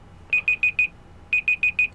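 A countdown timer alarm at a live reptile auction goes off in two quick bursts of four sharp, high electronic beeps, loud and clear over a faint background hum.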